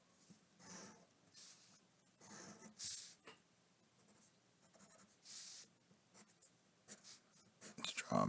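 Pencil or pen drawing lines by hand on paper while sketching a comic illustration, in short scratchy strokes of varying length with quiet pauses between, close and faint, alone.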